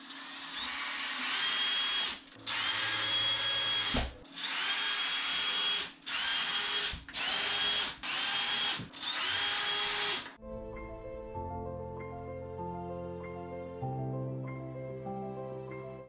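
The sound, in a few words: power drill driving screws into plasterboard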